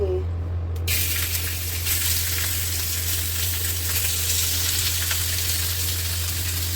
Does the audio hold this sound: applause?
no